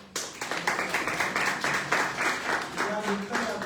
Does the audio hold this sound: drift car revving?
no